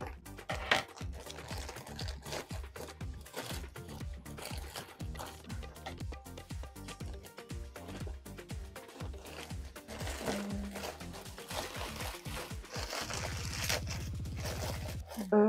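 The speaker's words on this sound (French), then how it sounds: "je vais ouvrir ce petit colis" A small parcel being opened, with dense crinkling, tearing and scraping of packaging close by, nearly continuous through the clip, ending in a steadier rustle.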